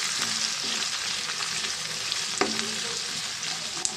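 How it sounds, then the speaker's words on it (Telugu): Onion, green chili and curry leaves frying in a pan for a okra curry, a steady close sizzle with occasional stirring scrapes and taps, no talking. "ఇది కొంచెం బ్రౌన్ కలర్లో వచ్చేదాకా మనం ఫ్రై చేసుకుందాం ఫ్రెండ్స్."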